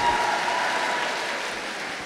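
Audience applause at an indoor Catholic revival and adoration gathering, a dense steady clatter of clapping hands that holds for about two seconds and fades slightly toward the end.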